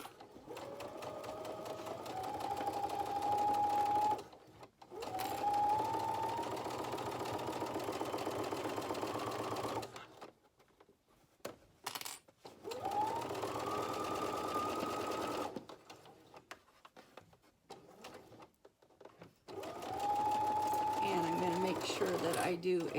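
Sewing machine stitching along a zipper on a coin pouch, running in several long steady bursts separated by silent gaps and faint handling noises, close and clear.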